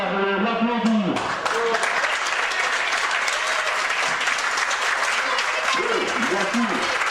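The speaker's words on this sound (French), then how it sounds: "Et je voudrais qu'on commence par l'applaudir." Sustained applause from an audience at an exhibition inauguration for a sports club's 50th anniversary, honouring the organiser; steady clapping throughout with a voice speaking over it at the start and again near the end.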